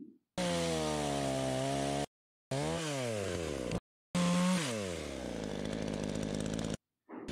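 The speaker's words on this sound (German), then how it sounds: "Es ist also ein weiterer Schnitt mit der Kettensäge nötig." A chainsaw roars in loud bursts, its pitch sliding up and down as the chain bites into a tree trunk holding a wild bee colony in Paraguay, with brief gaps between cuts.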